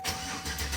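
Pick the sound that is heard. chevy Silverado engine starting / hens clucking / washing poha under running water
chevy Silverado engine starting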